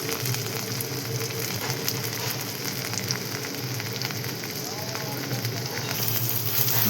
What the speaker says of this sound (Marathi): तेल खूप तापलेलं आहे. त्यामुळे मी एक टमाटर पण टाकून घेतलेला आहे बघा